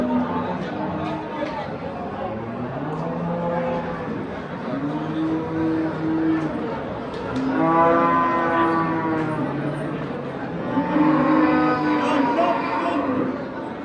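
Cattle lowing repeatedly at the Oqtepa livestock market in Bulungur district, several drawn-out moos rising over a steady babble of traders bargaining nearby.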